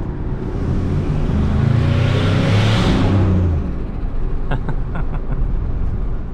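A turbocharged Ford F150 pickup truck drives along with a loud, close engine rumble that swells into a broad whooshing pass in the middle, then settles to a steadier drone with faint clicks.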